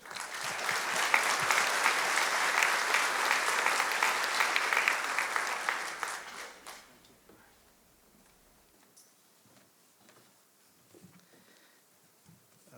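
Loud, sustained audience applause at a medical school white coat ceremony welcoming a doctor to the stage, a dense wash of clapping for about six seconds that fades into quiet room noise.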